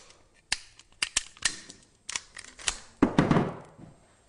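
A Makarov PM pistol is put together without cartridges, giving sharp metallic clicks and snaps at an irregular pace, with the slide clacking into place and a louder rattling shuffle near the end, close and clear with no talk.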